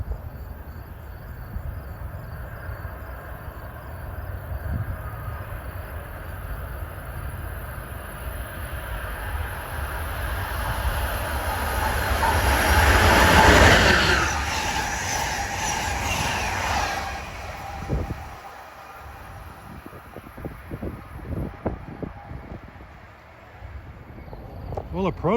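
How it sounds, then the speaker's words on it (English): An Amtrak Keystone passenger train running New York to Harrisburg approaches through the Philadelphia area, its rumble and rail noise swelling to a loud peak mid-clip before easing into clattering wheels, with a rooster crowing faintly in the background. "Approaching at 6:18 is train 653, Keystone,"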